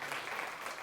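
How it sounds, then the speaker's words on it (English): A conference audience claps for a speaker at a talk, a steady, dense wash of applause lasting under a second. "Can we get a round of applause for Dr."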